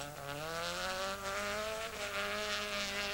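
A 1981 Opel Ascona rally car races flat out on a Welsh rallysprint stage. Its engine holds a sustained high-revving tone and climbs after a bend, loud and close, with no one talking over it.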